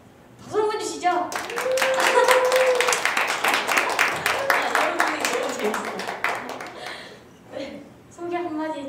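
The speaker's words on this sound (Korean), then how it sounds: "박수 한번 주시죠." Applause for a guitarist at a lounge busking event, a burst of audience clapping and cheering rising after a spoken introduction, with talking resuming near the end.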